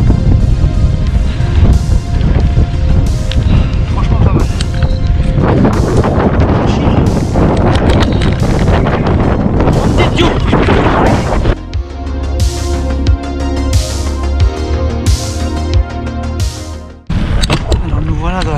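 Strong headwind buffeting the microphone of a cyclist on a gravel bikepacking ride in Flanders, a loud, constant roaring rumble with gusty surges, with someone talking over it.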